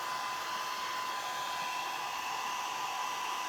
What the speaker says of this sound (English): All right, here goes the dryer. Turn it on.